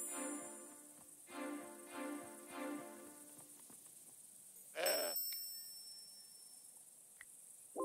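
A goat in the adventure game Broken Sword 5 lets out four rhythmic bleats, with insect chirping in the background and a sharp thud following.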